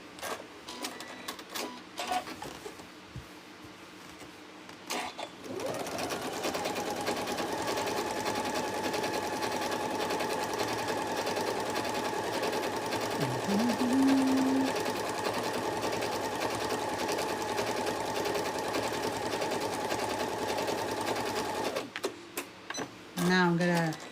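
A large quilting machine stitching a trapunto cushion runs as a steady, continuous mechanical whir for most of the stretch, starting and stopping with brief clicks and ending with a short pause.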